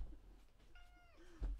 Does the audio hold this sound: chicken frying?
no